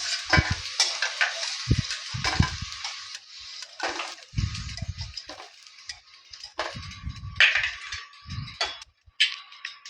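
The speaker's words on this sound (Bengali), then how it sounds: "ভাজাটা আমার হয়ে গেছে, আলু ভাজাটা আমি তুলে নিচ্ছি।" Potatoes frying with turmeric powder in a pan, with a soft sizzle broken by irregular bursts of spatula stirring and scraping, close up and with no voices.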